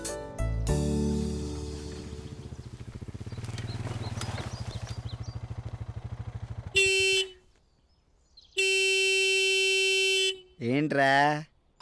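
A vehicle horn honks in two long sustained blasts, loud and steady with a short gap between them, coming after a stretch of busy noise and a music-like passage and followed by a brief rising tone.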